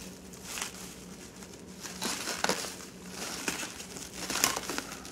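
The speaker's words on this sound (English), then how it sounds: "take your knife, slit the plastic like so, and then peel it back" A knife slits the plastic packaging on a 60-watt LED temporary work light, and the plastic is peeled back. It gives faint, close crinkling and crackling rustles in several short bursts, with no talk.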